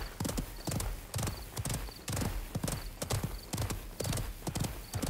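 Rapid hoof clip-clop of a flaming blue horse galloping in the video game Realm Royale, loud and close in a driving repeated rhythm, with occasional bright chimes over it.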